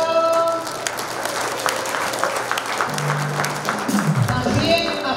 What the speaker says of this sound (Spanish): Aplausos para Cristo.